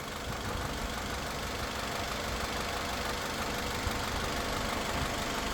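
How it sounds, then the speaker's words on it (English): A rebuilt 2000 Honda CR-V engine with a freshly replaced head gasket idles steadily, a constant close mechanical hum and rattle with no change in pace and no talking. "One running engine back together."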